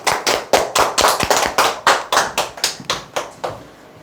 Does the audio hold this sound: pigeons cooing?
no